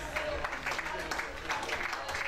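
A grandstand crowd at a horse show in the Grand Ring claps and cheers in a steady, dense wash of applause, with a commentator's voice running over it throughout.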